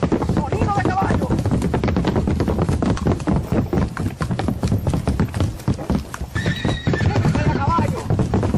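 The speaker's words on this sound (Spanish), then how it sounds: "Sonido de caballo." A horse whinnies several times over steady, clattering hoofbeats, loud and close throughout, with voices talking underneath.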